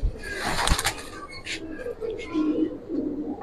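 A pair of fancy Giribaz pigeons gives soft, low, rolling coos in the second half, after a short burst of handling noise at the start.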